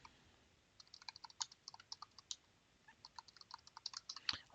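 Someone types on a computer keyboard, quick irregular bursts of light clicking keystrokes, close and clear against a quiet room, with no voices.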